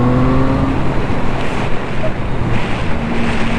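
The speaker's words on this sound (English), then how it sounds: "Oh, this motor's a sweetheart." A Triumph Speed Triple supernaked motorcycle engine revs up steadily while riding, its low droning tone buried under constant loud wind rush across the microphone, with no talking.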